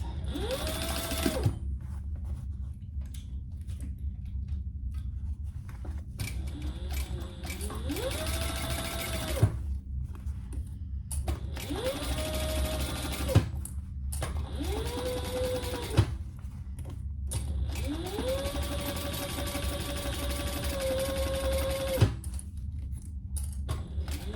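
A sewing machine stitches a handbag in several bursts of rapid whirring separated by short pauses, close up and clear, with faint handling noises between runs and no speech.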